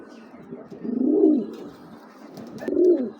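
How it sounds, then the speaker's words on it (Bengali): Two low, rolling pigeon coos from a breeding pair of racing pigeons offered for sale, each swelling and fading, close by with faint background noise between them. "চলুন না এই কবুতরটা দেখাই"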